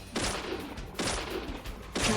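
Three loud gunshots from a weapon fired in the horror video game Deadly Premonition, evenly spaced about a second apart, each a sharp broadband crack with a short ringing tail.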